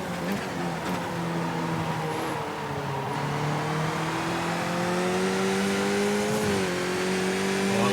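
Skip Barber race cars in the iRacing sim at Tsukuba, a pack of engines droning steadily with rising and falling pitch as cars jostle through corners, loud and continuous with no talk.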